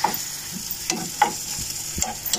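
Sliced onions fry with okra in a pan while a spatula stirs through them, a steady sizzle broken by several sharp scraping strokes spaced about half a second apart, close and fairly loud with no talking.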